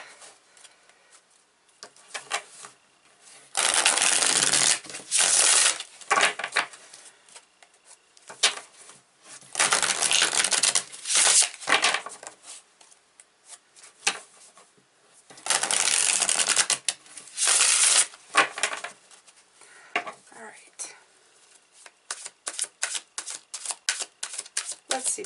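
An Imperial Visions tarot deck shuffled by hand in several bursts of rapid riffling and crisp card-flicking clatter, separated by quiet pauses and soft handling, close and clear.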